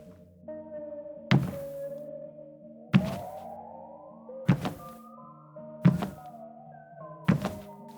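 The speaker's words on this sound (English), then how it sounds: "his massive boots making heavy thuds" Heavy boots thud on a wooden saloon floor, five deep, spaced footfalls landing irregularly over a sustained, shifting musical drone.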